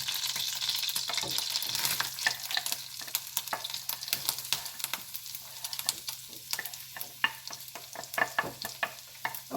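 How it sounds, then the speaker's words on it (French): Shallots frying in melted butter in a pan, a steady bright sizzle with frequent sharp crackles and occasional stirring scrapes, close and continuous throughout, no voices. "je vais faire cuire mes échalotes"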